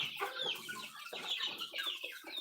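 Chickens cluck in a quick, busy series of close, raspy calls, several birds overlapping without pause and no talking.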